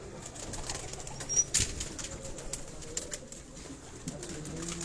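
Breeder pigeons in a rooftop loft in Sialkot coo steadily close by, with a brief burst of wing flapping and soft rustling over a constant low background.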